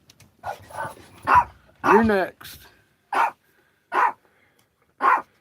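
A dog barks several times in the snow, loud, sharp and close. The barks are evenly spaced and follow a stretch of people talking.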